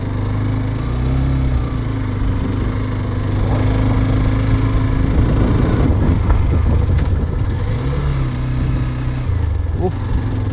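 Motorcycle ridden across a 41-metre-high loop bridge in the North Bengal hills during monsoon, with a loud, steady engine drone and wind rush throughout and shifting engine pitch.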